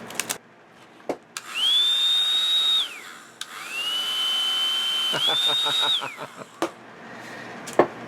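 A roughly 40-year-old Gillette Hairmax hair dryer whines up to a steady high-pitched motor hum, shuts off, then runs twice more, with small clicks and handling knocks between runs.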